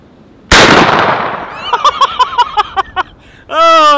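A Beretta A400 Xtreme shotgun fires a single loud, close blast of a 2 3/4 inch Winchester Super Speed shell, followed by a decaying echo, a series of short ringing mechanical clinks, then a voice at the end.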